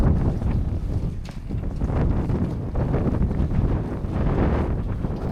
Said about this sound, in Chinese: 一路上发动机的轰鸣声盖过了风声